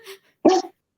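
A tiny dog gives a faint short yip followed by a single sharper bark, close by and brief, with silence between.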